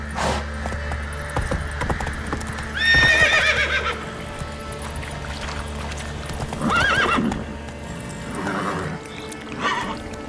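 Geralt's horse Roach from The Witcher 3 video game trots with rhythmic clip-clop hoofbeats and lets out several loud neighs and whinnies, all up close.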